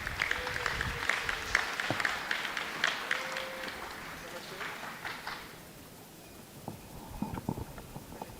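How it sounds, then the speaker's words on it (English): An audience applauds a performance at a student awards ceremony, a dense patter of claps mixed with voices that fades out after about five seconds. A few isolated taps and faint talk follow. "Give them a round of applause."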